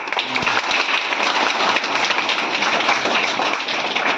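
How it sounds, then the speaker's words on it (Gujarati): Audience clapping at a girls' education enrolment festival in a village government primary school, a steady, dense applause from a crowd that carries evenly throughout without a break. "ચાલો તાળીઓ પાડો"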